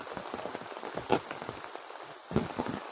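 Rain falling steadily outdoors at a village fishing spot in rural Bengal, a dense patter of drops on surfaces with a few louder splashes, continuous and close.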